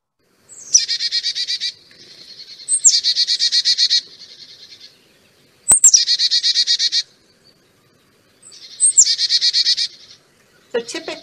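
Carolina chickadee song playing alone: four bright, high phrases of rapid chirps, each repeated in quick bursts with short pauses between, clear and fairly close with no talking.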